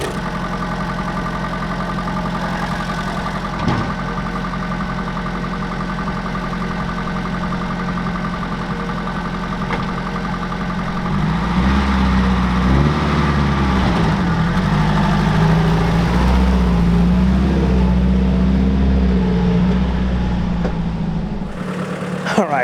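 A UAZ engine idles steadily and fairly close, a low continuous rumble that grows somewhat heavier partway through before cutting off at the end.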